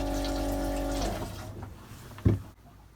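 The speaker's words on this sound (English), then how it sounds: "We lift the pedal and push the button. That will fill the bowl with water." Water rushes into a boat toilet bowl after the flush button is pressed, a steady close hiss of filling that fades after a second, followed by a soft gurgle and a brief thump.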